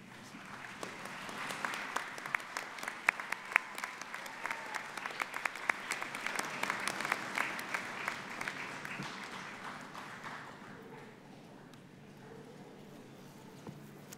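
Applause for families at a Penn State Brandywine spring commencement ceremony: a large crowd claps steadily with scattered louder claps, building and then fading into a quieter murmur toward the end.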